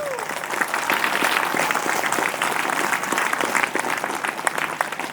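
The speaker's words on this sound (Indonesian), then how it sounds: "Maka tepuk tangan untuk kiai dan pesantren." An audience at an Indonesian religious lecture about kiai and pesantren applauds, steady dense clapping from a large crowd filling the room for about five seconds.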